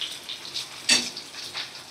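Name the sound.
fish frying in a pan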